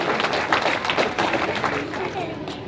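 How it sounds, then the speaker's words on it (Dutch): Audience applause for a young award recipient at a Dutch ceremony, a dense steady patter of many hands clapping at moderate loudness for a few seconds, with crowd noise mixed in. "Graag jullie applaus voor deze kanjer."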